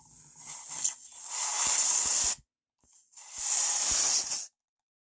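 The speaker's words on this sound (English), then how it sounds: "It's starting to sizzle, hiss just a little bit." CO2 gas hisses from a Remington 1875 BB revolver as it is slowly vented: two loud, close bursts of sharp hissing, each about two seconds long, separated by a brief silence.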